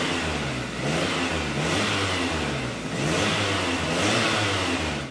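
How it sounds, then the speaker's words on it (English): A car engine revs up and down in repeated throttle blips during an oxygen sensor test, loud, close and steady with no talk. "rev the engine by opening the throttle"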